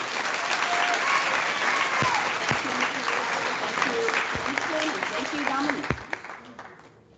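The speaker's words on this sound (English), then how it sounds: "Let's give them all another round of applause." Applause from an audience of families at a 5th grade ceremony, a steady dense wash of clapping lasting several seconds before fading out near the end, with a few sharp claps standing out.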